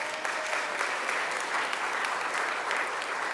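An audience at a Philadelphia PAL Day press conference gives a sustained round of applause for the mayor for the day, with dense clapping that holds evenly throughout.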